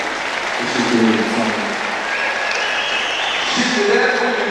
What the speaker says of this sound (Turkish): bir alkış rica ediyorum